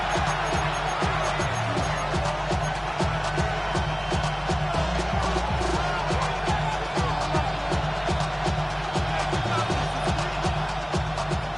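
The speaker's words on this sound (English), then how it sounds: "This crowd into it now." A stadium crowd in the Madden 26 American football video game roars in a steady, dense wash of cheering and noise, loud and continuous throughout with no clear breaks.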